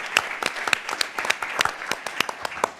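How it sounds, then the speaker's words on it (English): Applause from an audience at a food and farming summit fireside chat comes as sharp, fairly close hand claps in an irregular patter, moderately loud over a soft room background. "Let's give them a round of applause."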